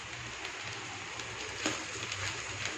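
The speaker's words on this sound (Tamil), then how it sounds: "மழை பெய்ய ஆரம்பிச்சிருச்சுங்க." Rain falls steadily in a continuous soft hiss, with occasional louder drips and faint background noises and no voices.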